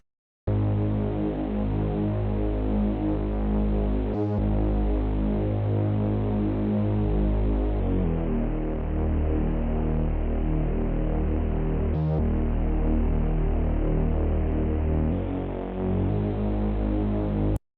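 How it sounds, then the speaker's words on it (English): A deep, steady pitched-down bass drone hums continuously under a layer of mechanical white noise, sustained and loud with almost no change throughout. "adding in that really low rumble of the bass and having that mechanical white noise"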